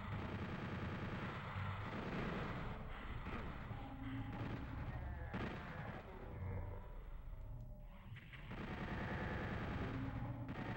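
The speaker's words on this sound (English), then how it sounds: "All I hear are lost souls. And a shotgun." Repeated shotgun blasts in Doom 64 thunder through dense game noise, loud and continuous with bursts scattered throughout and moaning monster sounds mixed in.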